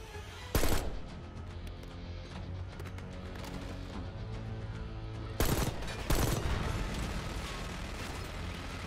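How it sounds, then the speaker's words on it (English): A minigun fires in the video game Call of Duty: Black Ops 6, two sharp, loud bursts of rapid gunfire several seconds apart, each followed by echoing rattle over a dense, rumbling battle background. "Take cover. Stay low until that minigun stops"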